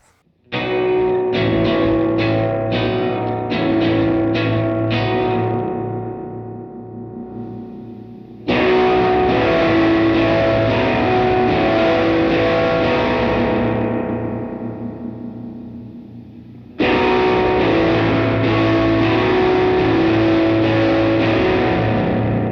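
Electric guitar overdriven through a Recovery Effects Endless Summer pedal, three loud dirty sustained chord passages, the first picked in quick repeated strums, each ringing out and decaying before the next strong attack.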